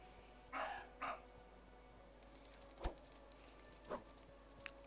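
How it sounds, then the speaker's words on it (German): Deer in the medieval survival game Medieval Engineers give short dog-like barks, two close calls at the start followed by two more spaced apart. They are moderately loud against a quiet background with faint clicking. "Die Rehe bellen. Ah, die bellen."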